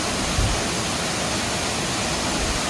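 Pittalaborra Tarabu waterfall near Vizag pouring steadily, a dense continuous broadband rush close by with no voices, a slightly louder thump near the start.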